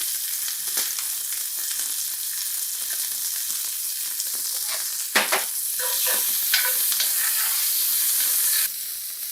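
Onion and garlic sizzle and crackle steadily in a hot pan for nopales rancheros, with a few louder stirring scrapes near the end and no talk.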